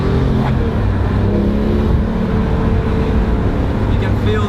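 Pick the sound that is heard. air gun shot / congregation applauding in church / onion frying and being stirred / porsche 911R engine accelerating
porsche 911R engine accelerating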